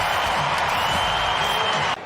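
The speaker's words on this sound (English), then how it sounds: "And the crowd rise for him." A big stadium crowd at an AFL match between Geelong and Richmond roars and applauds Jeremy Cameron's 700th goal, a loud, continuous wash of cheering that ends abruptly near the close.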